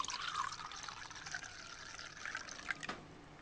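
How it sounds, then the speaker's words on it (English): Hippocras, a sweet spiced medieval wine, is poured into a vessel, giving a close, soft liquid trickle and splashing with a few drips near the end. "all that remains to be done now is to pour some Hippocras"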